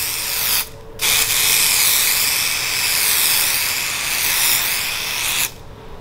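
A loud, close spray hisses in a long continuous burst after a brief pause while detailing a moldy SUV, cutting off abruptly near the end.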